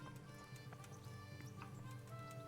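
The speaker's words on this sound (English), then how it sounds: "It's Radzig's horse." A horse's hooves clip-clop in a quiet, steady rhythm in Kingdom Come: Deliverance, faint against a low ambient hum with light scattered ticks.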